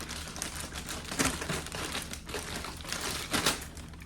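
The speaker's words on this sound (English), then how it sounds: "we will cut open the bag and begin doing our swap" A plastic bag of packaged meals is cut open, giving a steady crinkling rustle of plastic with a few sharper crunchy bursts, close and fairly loud, with no talking.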